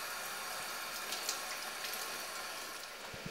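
Lukewarm tap water runs steadily while makeup brushes are rinsed, a close, even hiss of flowing water with faint splashes, no voice.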